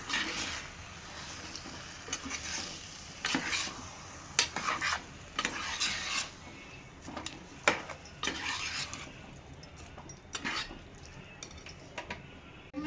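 Chicken biryani masala frying in oil, with a utensil stirring and scraping against the pot in irregular clinks and scrapes over a soft sizzle, close and alone without talk.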